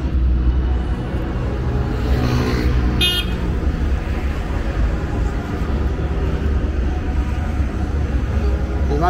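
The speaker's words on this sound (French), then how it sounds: "Devant le palais des sports, il y a des véhicules qui vont là." Traffic rolling past outside a sports palace in Abidjan, a steady roadway rumble with one brief horn toot near the middle and faint voices in the background.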